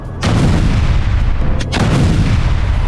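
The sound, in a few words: explosions blowing up Hamas tunnels in Gaza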